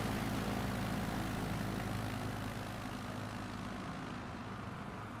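Simulated light aircraft with a carbureted Rotax 912 engine taking off in a flight simulator, a continuous loud propeller engine drone that stays steady and then eases slightly toward the end, with no talk.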